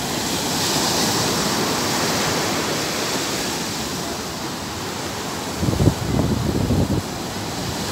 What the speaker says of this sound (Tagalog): Pagka bumulusok na yung alon, pagka lumiit na, hindi na sila ano.